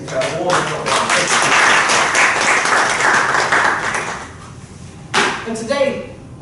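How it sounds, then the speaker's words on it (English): A small audience at an English-language rakugo-style storytelling event claps for a shamisen player, a burst of applause that fades after a few seconds, followed by brief stage sounds and a voice beginning to speak. "Please give her a warm applause."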